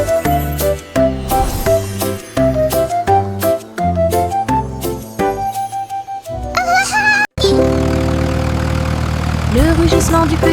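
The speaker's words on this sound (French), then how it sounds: "Le rugissement du petit tracteur était fort." A small tractor engine roars as a sound effect in a French children's nursery song, a steady low rumble that rises after a brief break and runs under the bright sung melody and instruments.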